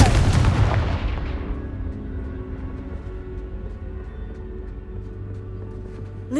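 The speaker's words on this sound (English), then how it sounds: "Confringo!" Confringo fire spell explosion in Hogwarts Legacy, a single loud booming blast at the start that rolls away into a long fading rumble and ringing tail.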